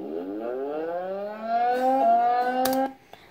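A Federal Signal Thunderbolt 1003 civil defense siren in Greenville, Wisconsin, winding up with a rising, harmonic-rich wail that climbs and holds steady, then cuts off abruptly near the end, heard alone with no talk.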